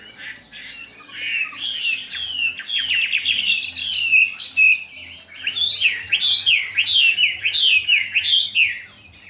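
A songbird offered for sale gives bursts of loud, close chirps and squawky warbling trills, with short pauses between phrases and a faint low hum underneath.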